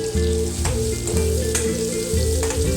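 Garlic and onion frying in oil in a kadai for a Maharashtrian red-masala toor dal, a steady close sizzle with crackling bursts and a few stirring pulses, no voices.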